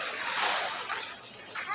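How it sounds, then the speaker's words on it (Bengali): Water splashing and falling outdoors, a short close burst of splatter and sloshing with a voice talking over it. "ও পানি পড়তেছে।"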